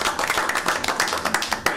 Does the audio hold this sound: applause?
yes